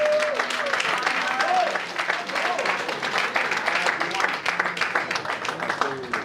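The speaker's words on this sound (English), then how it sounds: "please show a big round of joy and happiness" A crowd applauds steadily at a Ghana Musicians Union inauguration, dense clapping throughout, with a few voices and cheers mixed in.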